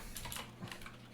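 Brief, soft patter of keys on a computer keyboard while PHP and HTML code is typed, a quick run of light clicks heard close and alone.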